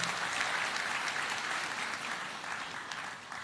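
Audience applause for a former governor at a public speaking event, a steady even patter of many hands that gradually fades toward the end.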